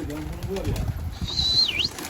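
Pigeons released from a rooftop loft flap their wings in a brief rustling burst, with low speech underneath and a faint whistle-like tone near the end.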